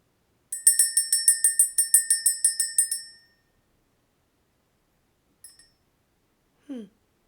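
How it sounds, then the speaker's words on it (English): A small bell rung repeatedly to clear energy: a fast run of about a dozen bright, close metallic rings that fade out, then one faint lone ding after a pause, followed by a brief low vocal sound. "Let's go ahead and ring the bell."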